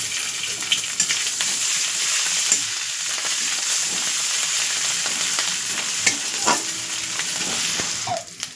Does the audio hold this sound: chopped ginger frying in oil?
yes